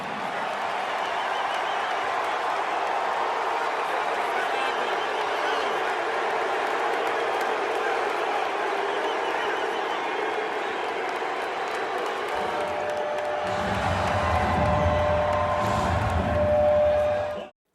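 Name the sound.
hometown crowd cheering Meek Mill at the arena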